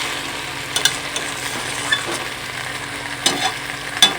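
Meat being stirred in a hot pan to coat it with spices: a sizzling fry under repeated scraping strokes and clinks of a spatula, close and fairly loud, with no voices.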